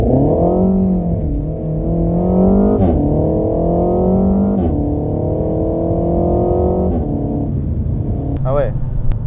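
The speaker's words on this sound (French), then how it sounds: "C'est un petit 0 à 100," Renault Megane 4 RS launching from 0 to 100 km/h, a loud close engine roar climbing through revs with sharp drops at each gear change, tyres spinning at the start.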